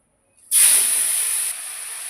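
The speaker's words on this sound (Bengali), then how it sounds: "পটলগুলো ভেজে তুলে নিলাম, এবার চিংড়িগুলো ভেজে নেব" Prawns hit hot oil with a sudden loud sizzle about halfway in, settling into a steady bright frying hiss close by.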